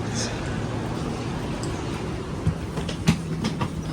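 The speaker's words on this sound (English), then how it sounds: "So this is the train." Steady rumble of a train at rest or rolling slowly, with a low hum, brief clanks and people talking faintly nearby.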